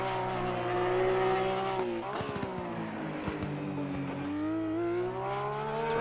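A Porsche GT3R racing at Paul Ricard in Assetto Corsa Competizione, its engine droning loud and close with a steady high whine that drops through downshifts with crackles before climbing again under throttle.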